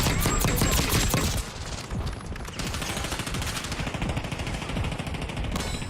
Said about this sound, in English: Sentry turret front.